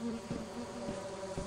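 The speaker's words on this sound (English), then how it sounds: "Oh, there is a bee's nest." Bees buzzing at a bee's nest in the video game Lethal Company, a close, steady insect drone with slight pulsing throughout, no talking.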